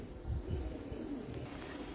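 A female pigeon gives soft, low cooing calls at close range, quiet and murmuring against a faint background hiss.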